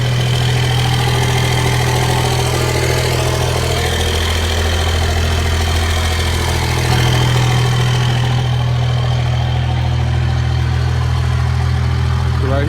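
A diesel Cummins 24-valve truck with an MBRP 4-inch aftermarket exhaust idles close by with a deep, steady rumble and throaty exhaust drone, the pitch dipping briefly before settling back to a constant burble.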